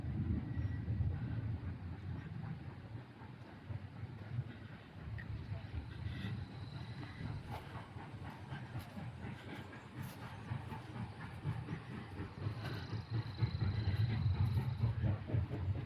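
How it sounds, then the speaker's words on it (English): A train at Fort Edmonton Park rumbles past at a steady, continuous level, with low clattering and rattling throughout and faint hissing, growing slightly louder toward the end. "Trains coming. Choo choo."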